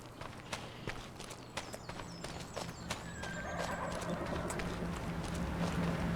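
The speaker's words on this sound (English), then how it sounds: "They got a few horses." Horses kept by renters walk past, their hooves clip-clopping in a steady, fairly close rhythm, with an occasional soft whinny and a low background hum that grows toward the end.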